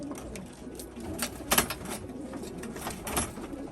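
Racing pigeons cooing at a loft during a race, with soft, repeated coos over a steady background of rustling and bird noise.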